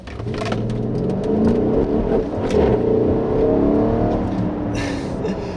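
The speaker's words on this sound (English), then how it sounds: "It's a little bit more of a muted tone because this is a V8" The V8 engine of a 2016 Mercedes-Benz GL63 AMG revs and accelerates with a deep, steady, somewhat muted rumble that builds and holds, loud and close.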